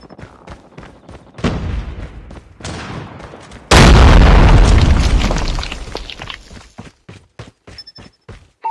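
A Predator missile strike in the mobile shooter Call of Duty Mobile lands as a huge, roaring explosion that rumbles and slowly fades. Sharp gunshots rattle before and after the blast.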